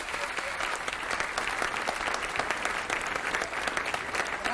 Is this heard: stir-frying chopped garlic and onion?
no